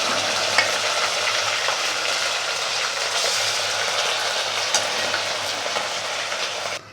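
Roughly 500 grams of boiled meat fries with onions for haleem, giving a continuous loud sizzle broken by scraping stirs, with no talking.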